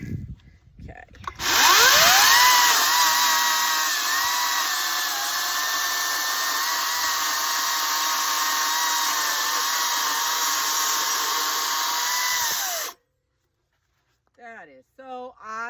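A chainsaw buzzes loudly and steadily for about eleven seconds, cutting through mesquite wood, then cuts off, followed by a voice speaking briefly.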